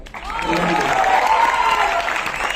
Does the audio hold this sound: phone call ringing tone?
no